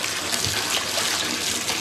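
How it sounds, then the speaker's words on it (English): Bathwater drains out of a tub after a foot soak, a continuous loud rush of running water up close with no other sounds. "And now let that water out again."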